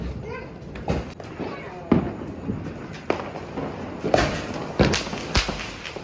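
Diwali firecrackers set off by a family make several sharp, scattered bangs and cracks, some close and loud, amid crackling and voices.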